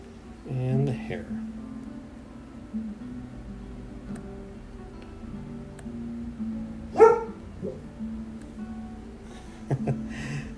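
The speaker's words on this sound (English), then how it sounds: "Please excuse my dog. She's barking." A female dog barks indoors during a live drawing session, a few scattered barks, one near the start and a sharper one midway, mixed with background voice-like sounds and room noise.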